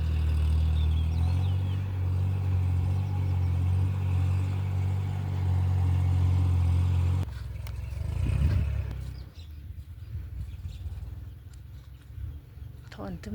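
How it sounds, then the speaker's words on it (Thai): Farm tractor engine running, a loud, steady low chugging drone that dominates for several seconds and then cuts out, leaving quieter outdoor sounds and a person talking. "รถไถ"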